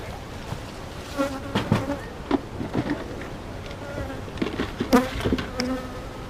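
Honeybees swarm around an open beehive, a dense, steady buzz close by with individual bees droning louder as they fly past.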